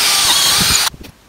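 A Stanley cordless drill whirs with a high, steady motor whine under a few low knocks outdoors while rails are refitted on a gate post, then stops abruptly, leaving quiet background.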